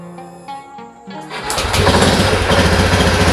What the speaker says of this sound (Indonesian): sekarang yang motornya sudah hidup. Memang kedengaran nggak terlalu normal ya, stasionernya nggak terlalu normal